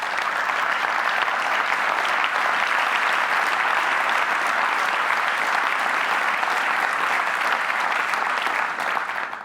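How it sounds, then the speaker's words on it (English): Sustained, dense applause from a large TED Global conference audience, steady and loud throughout with no pauses. "That round of applause is actually for the doctors and nurses of the hospital who took care of Avalile"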